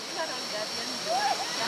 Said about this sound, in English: I mean, the waterfall.